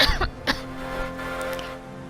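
A sick person coughs and clears their throat, two sharp close bursts near the start followed by a lower rasping throat-clear, with faint background hum.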